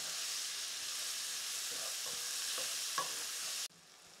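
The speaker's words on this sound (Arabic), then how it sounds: "نخلي البصل ديالي يدبل شويه" Chopped onions frying gently over low heat in a pan, a steady bright sizzle with a few soft stirring clicks, cut off abruptly near the end, with no talking.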